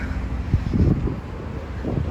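Gusty wind buffets the microphone in low, rumbling bursts, loud and close, with no voices, on a university campus.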